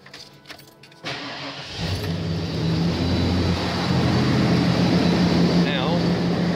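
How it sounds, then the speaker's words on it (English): A truck engine cranks briefly and catches, then settles into a steady, loud idle with a low hum, and a voice speaks over it toward the end. "And we will fire the truck up."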